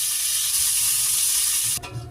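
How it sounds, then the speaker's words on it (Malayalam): Raisins frying in homemade ghee give a loud, close, bright sizzle that holds steady, then drops off sharply near the end as the pan is disturbed, with no talk. "ആദ്യം നമുക്ക് മുന്തിരി വറുത്തെടുക്കാം"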